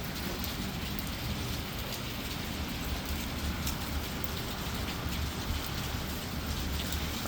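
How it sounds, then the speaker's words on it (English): Heavy rain pours steadily during a storm in Memphis, a dense, even hiss of drops drumming on surfaces close by, with no voices. "in the years that I've been here, I've never seen rain like this."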